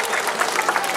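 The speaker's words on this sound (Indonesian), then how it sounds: "Tepuk tangan untuk nak Bali." A brief burst of audience applause at a Bali arts festival closing ceremony, many hands clapping densely and evenly, close and fairly loud.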